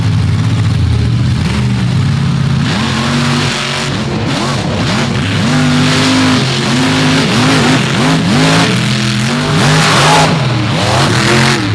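Drag race cars, including a big Ford-bodied machine, launching side by side down the strip at Dragway 42 in a semi-final round. Loud, close engine roar with repeated rising and falling revs and gear changes that continue throughout.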